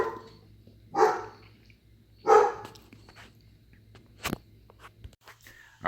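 A dog barking on command, giving two loud, close barks about a second apart, followed by a sharper faint yip and small rustles in an otherwise quiet room.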